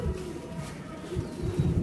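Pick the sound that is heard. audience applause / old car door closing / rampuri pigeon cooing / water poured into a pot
rampuri pigeon cooing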